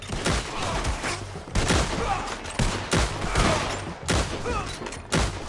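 Loud, repeated bursts of gunfire in a PS4 video game, roughly five sustained volleys separated by short breaks, with no talk over them.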